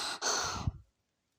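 A cartoon soldier pants heavily, out of breath, in one long ragged exhale with a short catch at its end, close and fairly loud, then cut to silence.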